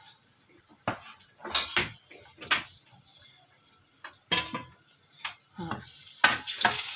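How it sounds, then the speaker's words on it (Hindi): Finely chopped, peeled garlic fries in a pan for black lentil dal, with intermittent sizzles and the scrape and clink of a spoon stirring, broken by quiet gaps, and a brief spoken word. "लहसुन को हल्का सा भून लेंगे"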